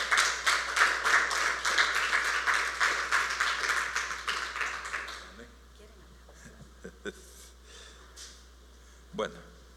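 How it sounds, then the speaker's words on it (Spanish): A church congregation claps hands together in loud, rhythmic, sustained applause as a praise offering, the clapping fading out after about five seconds into quieter scattered taps and faint murmurs. "Démosle una ofrenda de palmas al Señor"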